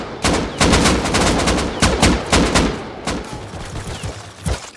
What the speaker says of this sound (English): I'll shoot this guy in the head up here.